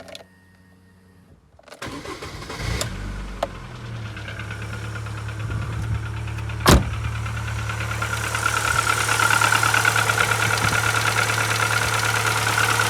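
Car engine cranking and catching, then settling into a steady idle with a faint light tapping, the idle growing slightly louder and rougher over time, close by.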